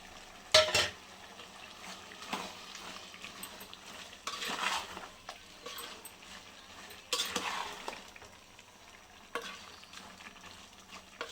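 Chopped tomato frying in a pan of chicken gundakayi gravy, a quiet sizzle broken by intermittent scraping stirs and clinks of a spoon against the pan, close and without talk.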